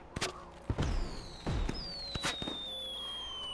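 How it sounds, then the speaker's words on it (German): Fireworks rockets launch in the video game Yonder: The Cloud Catcher Chronicles, with sharp whooshing bursts and pops, then rising whistling tones trailing off over a quiet background. "Ah, jetzt habe ich hier wundervolle Raketen."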